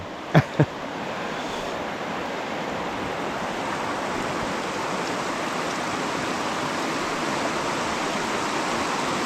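Rushing water pours in a broad, steady hiss from a muddy Carpathian mountain river swollen by rain, flowing nearby, with two sharp clicks near the start.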